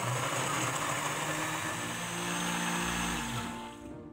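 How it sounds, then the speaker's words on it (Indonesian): An electric blender purees purple sweet potato with water, a steady loud whirring motor drone that holds its pitch, then eases slightly near the end, with no talk. "Masukkan ubi ungu ke blender, tuang juga setengah airnya untuk mempermudah, dan blender hingga halus."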